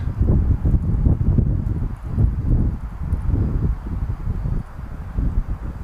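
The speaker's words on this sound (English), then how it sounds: "It's a windy night here, trying to shield the mic as best I can." Low, gusty rumbling buffets the microphone throughout on a windy night at a live sports match, wind blasts rising and falling in uneven bursts.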